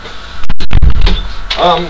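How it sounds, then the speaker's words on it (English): A door being shut nearby indoors gives a brief, loud clunk and rattle, followed by a voice speaking close to the microphone. "I'm just quickly going to close the door here"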